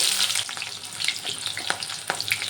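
Chopped onion frying in hot mustard oil with kalonji seeds, a steady bright sizzle with quick crackles and a few sharper pops close by, no voices.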